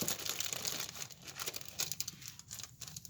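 Thin Japanese calligraphy practice paper from Daiso crinkles and rustles close by, a soft continuous crumpling with small crisp bursts, faint and with no talk.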